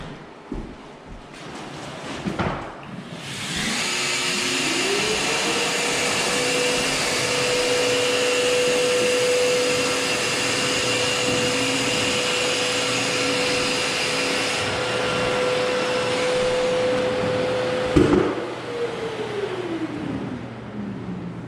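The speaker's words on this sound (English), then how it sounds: "I'm going to sand a little bit of this straight flex 45-degree tape." A Festool Planex sander spins up and runs steadily against drywall, sanding 45-degree corner tape with a loud droning whine and rough abrasive hiss, then winds down near the end.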